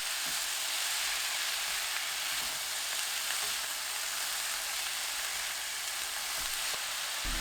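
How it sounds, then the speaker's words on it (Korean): Zucchini stir-frying in a pan with fish cake, minced garlic, tuna sauce and fine salt over medium heat, a loud continuous close sizzle with faint occasional stirring taps and no voices. "참치액 1큰술, 고운 소금 3분의 1큰술 넣고 1분 볶아주세요"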